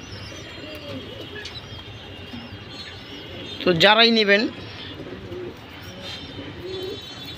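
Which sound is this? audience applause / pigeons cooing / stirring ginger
pigeons cooing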